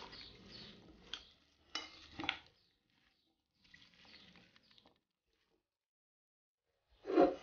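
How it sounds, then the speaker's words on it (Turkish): Spoon stirring a chickpea salad (piyaz) dressed with vinegar, with soft wet scraping and clinks against the bowl in short bursts, then a pause and a final louder stir, close and quiet. "Güzel bir şekilde karıştırıyoruz."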